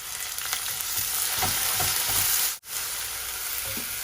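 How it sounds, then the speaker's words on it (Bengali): Onion fries in a pan for a Sylheti sour curry with a steady, close hiss of sizzling oil and faint stirring scrapes, broken by one brief dropout partway through. "এখানে দেখো এখন একটু পেঁয়াজ দিলাম"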